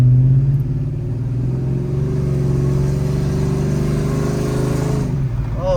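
A cammed truck engine is held at a steady high rev during an alternator test, a loud, deep, lumpy drone that runs unbroken for about five seconds before easing off, with no talking.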